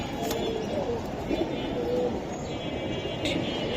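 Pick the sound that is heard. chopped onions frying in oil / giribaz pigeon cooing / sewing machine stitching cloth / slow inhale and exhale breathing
giribaz pigeon cooing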